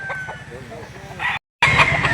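A rooster crows loudly at a busy chicken market in Lipa City, Batangas, over steady clucking and murmuring voices, then stops briefly before more crowing and clucking.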